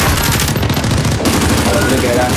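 Dense, continuous automatic gunfire in a video game shooter, loud and close, a sustained fusillade of rapid shots with overlapping bursts filling the whole stretch.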